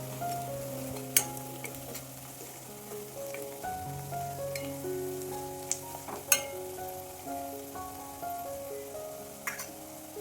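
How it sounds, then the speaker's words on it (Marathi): Malvani masala, turmeric, coriander, garam masala and a pinch of hing fry in oil for a Konkani raw jackfruit curry, giving a soft, steady sizzle with occasional sharp clicks of a stirring spoon against the pan. "आता हे मसाले आपण छान तेलामध्ये परतून घ्यायचे आहेत"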